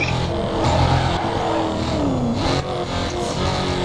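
A Dodge drifts in the racing game NFS Carbon, its engine revving and whining in rising and falling pitch while tires skid, loud and continuous throughout.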